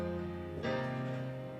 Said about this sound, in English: the chord progression is just 3 chords.